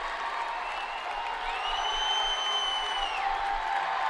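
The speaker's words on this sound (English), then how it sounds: "The entire crowd going crazy." A crowd at a state wrestling quarterfinal roars and cheers in a steady, dense wash of noise, with a few sharp whistles rising over it for about four seconds.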